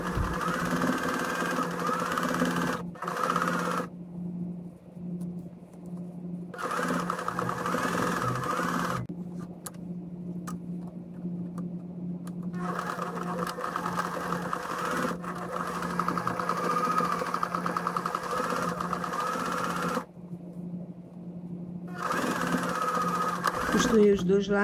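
A sewing machine joins two cut fabric pieces for a scissor holder, running in long steady bursts with short pauses between, near and fairly loud, with a voice talking over parts of it.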